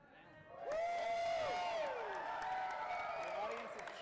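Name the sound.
audience cheering at a fighting tournament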